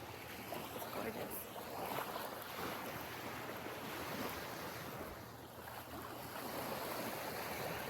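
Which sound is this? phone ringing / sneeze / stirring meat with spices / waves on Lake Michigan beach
waves on Lake Michigan beach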